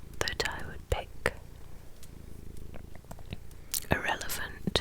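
A cat purrs softly in a low, continuous rumble close by, under steady quiet whispering and mouth sounds.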